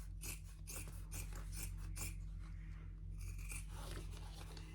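Scissors trim a fabric flap on a clutch bag being sewn, with a quick series of close, crisp snipping cuts over a steady low hum, no talking.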